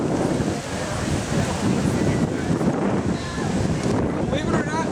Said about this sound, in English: oh, and there goes the wind.